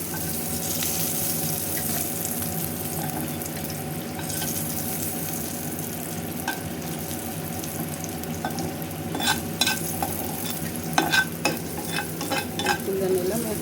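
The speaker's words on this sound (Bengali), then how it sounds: "এই শুকনো মরিচগুলো, কাঁচামরিচটা আর একটু ভাজবো।" Dried red chillies and green chilli frying in a pan give a steady low sizzle with occasional stirring scrapes and clinks, fairly quiet and continuous, no voices.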